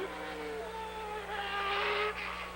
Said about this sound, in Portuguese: Você está ouvindo o som do motor